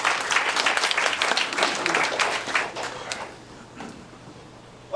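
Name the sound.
audience applause at a beekeeping lecture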